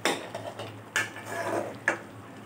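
Mutton curry being stirred in a cooking pot, with a spoon scraping and knocking against the metal in several separate clinks and scrapes over a low steady hum, close up, with no voices.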